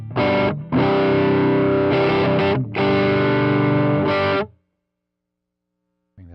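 An electric guitar played through a Strymon Riverside drive pedal on its high-gain channel gives thick, loud distorted chords in several sustained strums separated by brief cuts, then rings out into silence.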